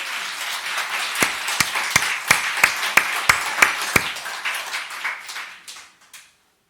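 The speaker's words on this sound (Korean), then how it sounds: "믿으시거든 박수 한번 쳐보세요." A church congregation claps together in a dense burst that settles into several loud, evenly spaced group claps, then thins and fades into silence.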